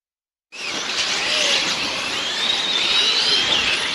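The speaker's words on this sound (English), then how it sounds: "you can see the electric motors going whiz" Electric motors of RC racing cars at an EFRA GT8/E Euros qualifying session, a steady high-pitched whine with rising and falling tones that starts abruptly and holds loud and continuous, with no talking.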